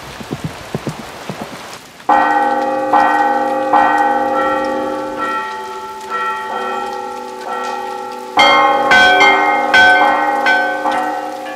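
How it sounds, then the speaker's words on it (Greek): Several monastery church bells of different sizes ring together on Mount Athos, high and low tones overlapping in a steady clangor that swells louder near the end after a brief pattering start. "οι καμπάνες, μικρές και μεγάλες, μέσα από τις δοκιμές επιβεβαιώνουν την ετοιμότητά τους"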